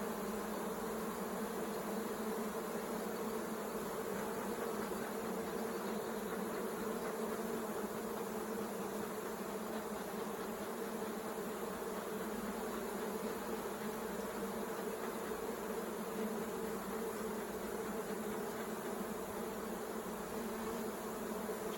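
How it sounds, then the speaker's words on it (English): Honey bees swarm around an opened beehive during honey collection, a dense continuous buzzing hum that stays steady and close for the whole stretch, with no voices. "trying to get as many bees out as I can"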